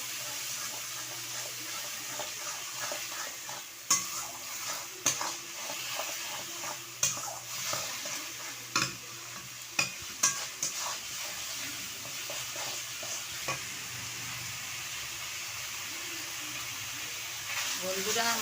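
A spatula repeatedly scrapes and stirs spice masala frying in a pan, for a tilapia kalia, in a quiet kitchen: soft, regular scraping strokes over a low sizzling hiss, with a voice speaking faintly at times.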